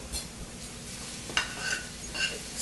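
Onions and garlic sauté lightly in a pan for a surf and turf burger, a soft, quiet sizzle with a few sharper scraping stirs of a utensil against the pan, no talking.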